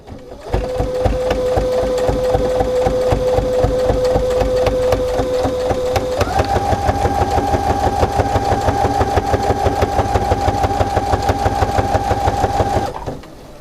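A sewing machine stitches a zipper at a steady, rapid rhythm. Partway through it speeds up to about half speed with a higher whirring motor tone, then stops after roughly twelve seconds.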